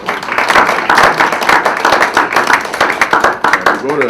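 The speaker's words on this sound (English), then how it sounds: "Yes, you can clap for that." An audience claps at a political talk on job creation and income inequality, a burst of scattered hand claps running for several seconds, mixed with voices in the room.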